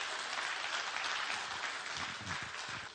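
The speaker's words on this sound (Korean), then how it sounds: "박수 좀 쳐요, 박수 좀" A church congregation applauds, a dense, even wash of clapping that fills the room at moderate volume, with a few brief voices showing through near the end.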